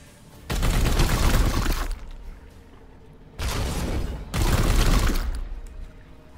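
Support-fire gunfire rattles in Warhammer 40k: Chaos Gate - Daemonhunters, two loud sustained volleys of rapid shots, each lasting over a second, separated by a quieter pause.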